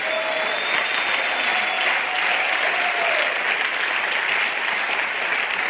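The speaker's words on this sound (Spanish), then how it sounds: "denle un aplauso al Señor Jesucristo" A church congregation bursts into sustained applause during a Spanish-language sermon, a dense continuous clapping of many hands filling the room for several seconds without speech.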